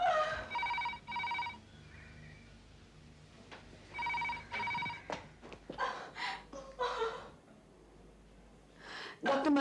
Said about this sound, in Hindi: मैं अभी डॉक्टर मर्चेंट को फोन करती हूँ